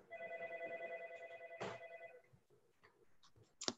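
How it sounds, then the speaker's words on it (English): A phone rings during a council meeting held over a video call, its electronic ringtone repeating in steady pulses for about two seconds before stopping, followed by faint rustling and a brief click. "My phone here is ringing."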